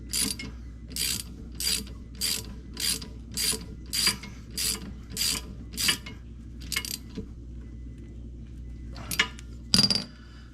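A ratchet wrench tightening a bolt on the rear brake of a 2020 Nissan Rogue with electronic parking brake, a rapid metallic clicking in about a dozen even bursts, then a pause and a few final clicks close by.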